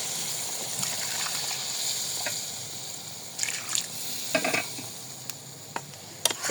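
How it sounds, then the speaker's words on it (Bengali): Hot water goes into a pan of desi chicken curry. A steady hiss and sizzle runs throughout, and stirring and bubbling bursts come toward the end. "সেই গরম পানিটা দিয়ে দিব"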